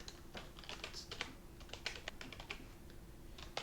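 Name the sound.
typing on a computer keyboard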